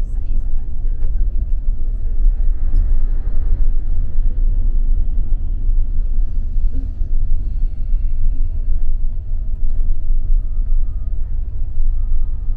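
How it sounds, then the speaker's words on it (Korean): Heavy cargo trucks grind along a mountain road toward Kazbegi in the Caucasus, past snow and avalanche debris, a steady low engine rumble beneath someone talking throughout. "화물차들이 지금 이제 들어가고 있는데요"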